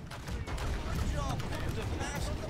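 Cannon fire aimed at a pirate ship in Blackwake, a heavy booming barrage rolling under dense naval battle noise, continuous and loud throughout.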